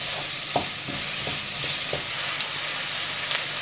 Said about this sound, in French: Une fois que les oignons ont pris en coloration, on va venir y ajouter le sucre gonflé.